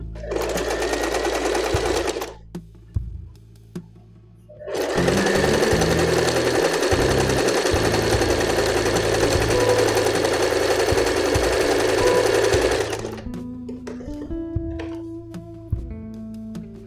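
A sewing machine runs simple straight stitching in two bursts, a short run and then a longer steady rattle lasting several seconds, loud and close with brief pauses and small handling clicks between them.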